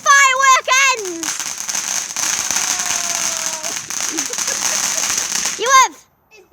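Bonfire night fireworks crackle and hiss in a dense, sustained burst, with children's voices and cheers rising over it.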